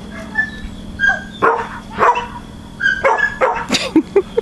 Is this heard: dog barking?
yes